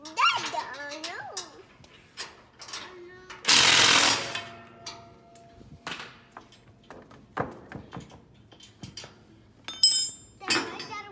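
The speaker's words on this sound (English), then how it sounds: "it's a special wrench that has hammers inside, and the hammers help to make this thing loosen and tighten the nuts and bolts" An impact wrench loosens and tightens nuts and bolts while a tractor flail mower is set up, firing one loud rattling burst of about a second amid scattered clinks and voices of an adult and someone talking.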